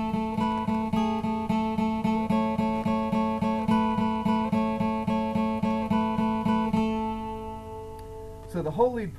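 An electric guitar plays the lead part of a worship song, a steady run of repeated picked notes in a clear rhythm with a sustained melody, ending on a few bent notes.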